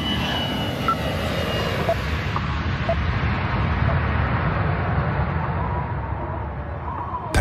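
An Air Asia airliner rolls for takeoff with a loud, steady roar of its engines. The high whine fades away as the noise settles into a broad, continuous rumble.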